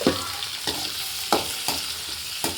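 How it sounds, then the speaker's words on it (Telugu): Tomatoes, onion and green chillies sizzle in a pan with a continuous close hiss, while a spoon scrapes and stirs in four or five spaced strokes. "టమోటాలు ఫ్రై వద్దాం"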